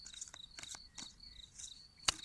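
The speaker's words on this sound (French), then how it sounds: "c'est le chant des grillons." Crickets chirp by a roadside at night, thin high-pitched trills repeating in quick pulses, fairly faint and steady, with one sharp brief click near the end and no talk.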